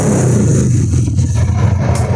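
A 2018 Royal Enfield Bullet 350 Classic motorcycle in good condition, fitted with an aftermarket silencer, idles with a steady, close, low thumping engine rumble throughout, with no talk.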